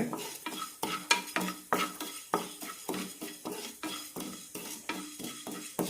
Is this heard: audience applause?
no